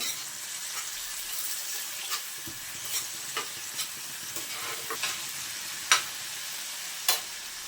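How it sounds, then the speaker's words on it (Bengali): Egg masala is stir-fried in a pan with a low, continuous sizzle, broken by a few sharp scraping clicks of a spatula against the metal, near and fairly quiet. "ভালোভাবে আবারও কষিয়ে নেব"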